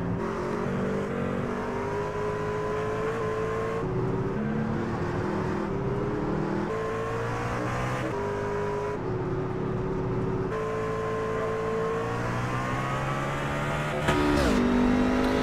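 Race truck engines roar together as the pack leaves pit road at Talladega in a racing video game, a dense continuous drone of rising and shifting engine tones with a sharp surge near the end.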